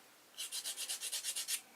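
Sandpaper rubs a hard fishing lure in a quick run of about ten even back-and-forth strokes, close and crisp but fairly quiet, with no talking.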